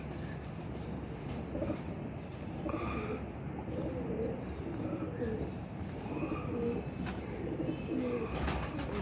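Domestic pigeons coo softly and repeatedly at close range, with steady background noise and faint voices around them.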